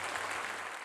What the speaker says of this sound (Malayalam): കൈയടിച്ച് കർത്താവിന് നന്ദി പറ.